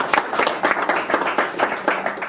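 Audience applause after a business keynote, a burst of fairly close clapping with uneven, rapid claps through the whole moment.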